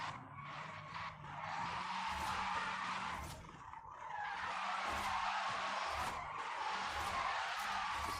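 In the video game Forza Horizon 5, a car drifts with sustained tire squeal and skidding over a steady engine drone, nearly continuous across the stretch with brief dips between slides.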